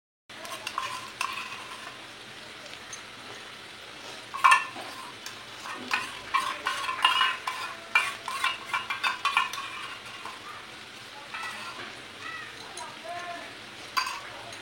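Poppy seed paste (posto bata) stirred as it fries in a pan, a spoon scraping and clinking against the metal over a soft steady sizzle, with louder scraping bursts through the middle and no talk.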